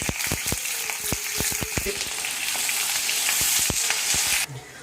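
Onions and a large bay leaf sizzle loudly in hot mustard oil, with dense steady frying crackle and sharp pops and spatter close by before the sound drops off abruptly near the end.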